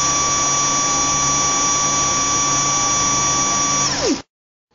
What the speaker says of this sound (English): Your stepper is up and running in less than a minute, ready for your next command.